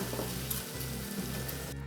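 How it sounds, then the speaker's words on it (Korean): Onion and cabbage stir-frying in a pan, a steady close sizzle that runs throughout with soft stirring scrapes and brief dips, no voices. "양파를 볶은 뒤 양배추를 넣어주세요."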